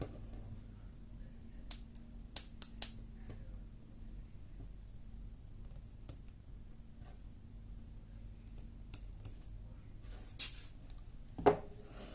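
Scissors snipping off leftover yarn ends on a small crocheted daisy: a handful of sharp, brief clicks spread out in a quiet room, close and faint, with a slightly louder snip near the end.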